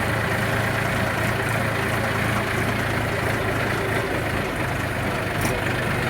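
A tractor's engine runs continuously while it drives along a road, a steady, close rumble that holds level from start to finish with faint background noise.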